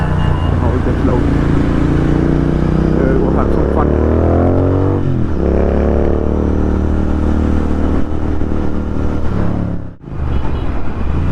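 A Royal Enfield-style Continental GT motorcycle fitted with a Thrive exhaust revs and accelerates through busy Indian city traffic, its loud engine note rising and falling continuously while a rider talks over it.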